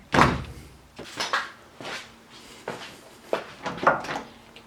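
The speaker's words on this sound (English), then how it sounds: "we got the door on. She opens and closes nicely, but she doesn't close as easily as the other side" A car door being opened and shut repeatedly on a vehicle under restoration, which has freshly fitted doors, a trunk and tail lights but still a damaged fender; several distinct thunks and latch clicks sound close by, with no talking.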